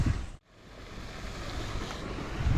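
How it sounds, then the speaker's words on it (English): Blustery wind buffets the microphone beside a river during winter grayling trotting, a steady roaring rush with a brief lull near the start before the gusts build again, and no voices heard. "Again, the wind's playing havoc."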